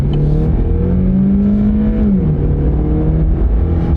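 A pickup truck pulling a heavy load accelerates at full throttle, its engine drone loud and close, rising steadily in pitch before briefly dipping at a gear shift and climbing again, with no talking.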